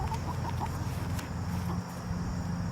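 Chickens cluck steadily around a homestead yard, short repeated clucks from several birds over a constant low background hum, moderately close.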